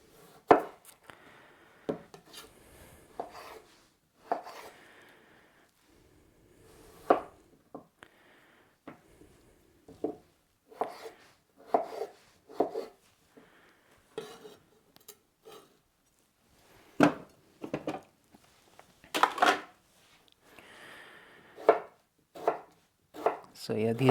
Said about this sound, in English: I think I'm gonna hand cut some fries for the air fryer.